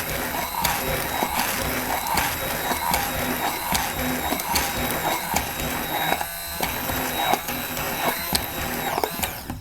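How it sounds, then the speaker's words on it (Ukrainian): A blender whipping homemade hazelnut spread, a loud, steady mechanical whir with a repeating rattle and knocking running the whole time. "тепер начну збивати"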